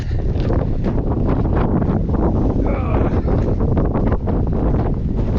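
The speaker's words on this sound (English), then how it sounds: "often a blast of wind." A steady blast of wind buffets an exposed hilltop on the Wharfedale skyline, a continuous loud rushing roar with no breaks for the whole stretch.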